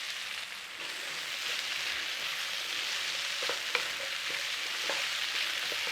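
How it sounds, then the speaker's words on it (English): Potatoes and root vegetables sautéing in a pan for a wartime Woolton pie, giving a steady close sizzle and crackle throughout with a few sharper pops, no voices. "So just a little sauteing in there, you know."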